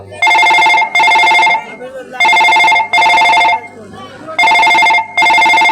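A telephone rings in three paired bursts, loud and clear, during a live Maithili nach folk stage show in Bihar. The bright electronic rings are evenly spaced, with short pauses between the pairs.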